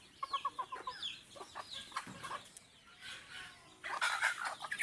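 Native chickens with a rooster clucking close by, a quick run of clucks at first, then scattered calls and softer peeps with rustling and background noise.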